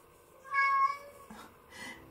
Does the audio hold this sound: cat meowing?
yes